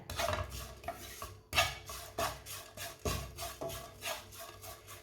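Repeated scraping and rubbing strokes from a spoon working a spiced roll filling around a pot, quiet but close, in a steady rhythm of short pulses with a few louder knocks.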